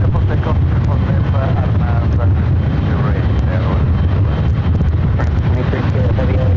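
An airliner takes off from runway 24 left at LAX, a loud, steady roar of jet engines and rushing wind noise that fills the whole clip without a break.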